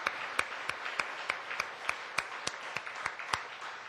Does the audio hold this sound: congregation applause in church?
yes